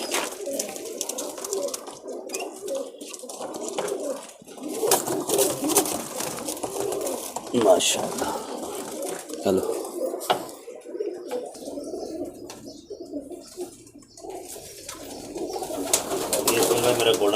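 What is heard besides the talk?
pigeons cooing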